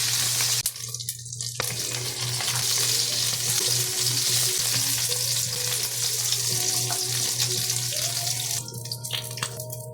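Galunggong fish frying in a pan gives off a loud, continuous crackling sizzle, close and unbroken, with brief pops and a few faint clinks; nobody speaks.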